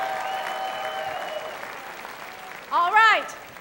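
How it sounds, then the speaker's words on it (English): An audience at a Dancing with the Fort Wayne Stars ballroom show applauds the dancers with a steady wash of clapping. A voice over the speakers sings out near the end. "Another round of applause for these wonderful,"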